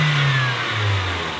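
A Mazda Miata's small 140-horsepower engine with 120,000 miles runs close by, a steady mid-pitched hum that dips slightly in pitch partway through, with a faint valve rattle possible and no voices.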